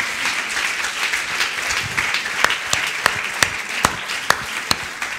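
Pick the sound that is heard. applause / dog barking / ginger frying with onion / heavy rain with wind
applause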